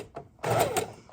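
A sewing machine lock-stitches lace onto a junk journal cover in a brief burst, with a soft whirring run after a couple of faint clicks.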